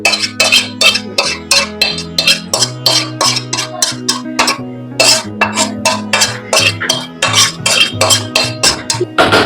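Cooked, deep red braised meat tipped out of a kadai into a serving dish, with a steady run of metallic clinks and scrapes of utensil on pan under a low, continuous background hum, no talking.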